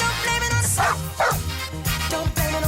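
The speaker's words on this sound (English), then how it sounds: "Teacup Yorkies." Teacup Yorkies yap and bark in quick, high-pitched bursts over loud, busy background sound, with little whimpering cries mixed in.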